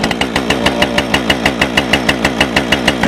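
A Husqvarna chainsaw engine runs steadily after starting, a loud, close two-stroke putter with an even rapid firing rhythm and no talk over it.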